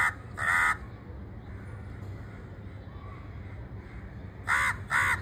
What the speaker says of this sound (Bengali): অন্যান্য পাখির সুন্দর কলরবের পাশাপাশি কাকের ডাকও কিন্তু শুনতে তখন ভীষণ ভালো লাগে